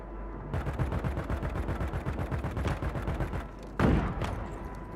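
Rapid gunfire from a Warzone match, a continuous close burst of automatic shots with a single heavier sniper crack near the end, no talking.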